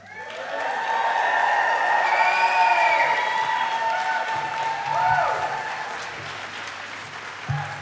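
Sustained applause fills a hall at a university fall convocation ceremony, swelling to a full steady roar and carrying on for several seconds, with a voice speaking over the clapping near the end.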